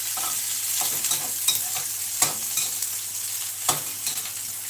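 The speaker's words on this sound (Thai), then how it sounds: "เอาหอมกับพริกไปคั่วในในน้ำมันก่อนใช่ไหมพ่อ" Oil sizzles steadily in a pan as shallots and chili stir-fry, with intermittent scraping and clacks of a spatula stirring the food.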